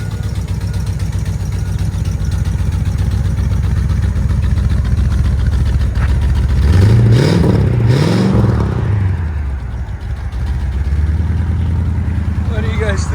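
A 1962 Cadillac Coupe Deville V8 with true dual glass pack exhaust and a manifold leak idles with a steady low rumble, rising in a couple of brief revs midway, while people talk nearby.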